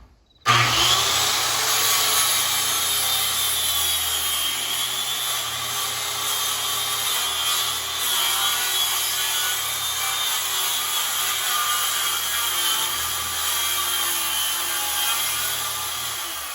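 Circular saw plunge-cutting into a wooden sub-floor, a loud continuous high whine of the blade biting through wood for the whole stretch, starting abruptly after a moment of quiet.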